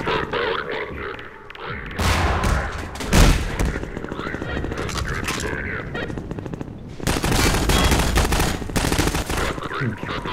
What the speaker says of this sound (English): Or you can just use the attached grenade launcher